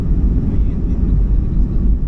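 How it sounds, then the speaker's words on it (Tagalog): Steady low roar of an airplane's engines heard from inside the cabin before takeoff, dense and continuous with no other distinct sounds. "Yung biglang kakadyot yung eroplano dahil bubuelo na siya para lumipad."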